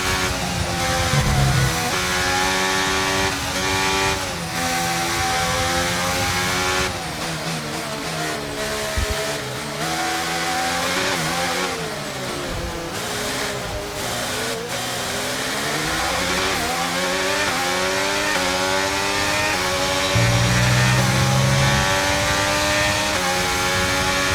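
F1 race car engine at Silverstone in the F1 23 video game, a continuous high-pitched screaming engine rising and falling through gear shifts and revs, loud and steady throughout with no talk.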